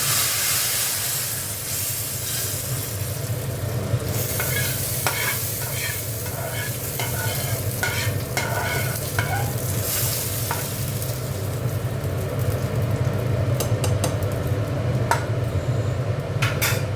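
Coriander and fenugreek seeds sizzle as a tempering in a hot pan for bitter moong dal, with a steady, close hiss and frequent stirring scrapes and clicks throughout.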